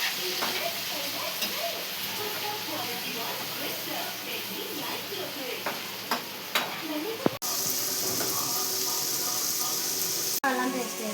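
Onions and mustard seeds frying in a pan, starting with busy crackling and popping under a bright sizzle, then settling into a steadier, louder hiss.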